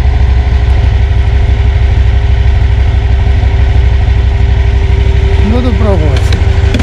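A Lanchin 30 hp engine on a Krosh all-terrain vehicle idles while warming up in cold weather, a loud, close, steady throbbing rumble, with someone speaking briefly near the end.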